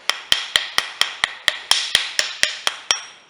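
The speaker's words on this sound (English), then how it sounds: "Hold the carburetor upside down or right side up like this and just tap it" A Honda GCV160 carburetor is tapped to knock its jets loose, giving about a dozen sharp, evenly spaced knocks in a steady rhythm, close and clear with short ringing decays and no talk.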